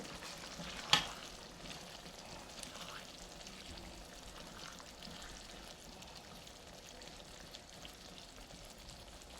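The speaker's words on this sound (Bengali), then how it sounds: "আলুগুলো দিয়ে আমি আরেকবার এটাকে সুন্দর করে" Chicken and potatoes sizzle steadily as they fry in a pan and get stirred, a continuous close crackle with one sharp scrape or clink near the start and no talking.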